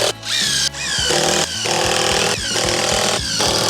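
A power driver sinks long screws through a 2x6 board, loud close whirring bursts that rise and bog down in several repeated drives with short pauses between them.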